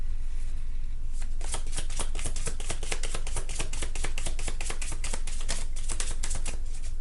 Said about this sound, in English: I'm going to further clarify this reading with my Andromeda Skies Love Oracle.